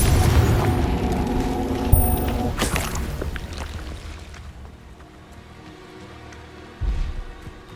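A Confringo blasting spell detonates in Hogwarts Legacy with a loud boom near two seconds in, then a broad rumbling decay, with another thump near the end over steady game ambience.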